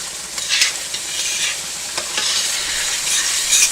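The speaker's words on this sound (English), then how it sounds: "Now what I'm going to do is I'm going to take that butter melt down just a slight bit more." Butter sizzles steadily in a hot pan while shrimp pasta is cooked, a close, bright frying hiss with occasional louder spits and stirring scrapes, and no talking.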